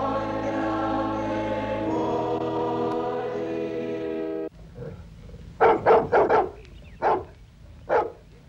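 Police dogs searching for escaped boys from a 1960s US reform school bark in a short volley of five or six loud, close barks, following a sustained droning tone.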